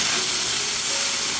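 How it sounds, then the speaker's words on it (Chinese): Water poured into a hot wok holding fish gives a loud, continuous broadband hiss of steam and sizzle, steady and close throughout, no talking. "再朝锅内加水"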